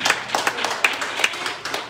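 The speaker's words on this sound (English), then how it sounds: "Would you clap your hands and thank the Lord for that?" A church congregation claps hands in a loose, quick series of sharp claps lasting under two seconds, fairly close and uneven in rhythm.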